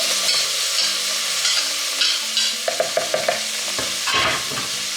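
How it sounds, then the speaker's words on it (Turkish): Onions hiss and sizzle in a hot pot for Turkish orman kebabı, a continuous frying crackle broken by scraping and stirring clatter from a utensil, close up. "Şöyle soğanlarımı öncelikle bu tencerenin içine alıyorum."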